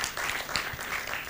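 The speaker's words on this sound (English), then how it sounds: "Please join me in clapping for our American friends" An audience breaks into steady applause at a pro-life, family-friendly side event to the ICPD25 conference in Kenya, a dense and even patter of many hands clapping throughout.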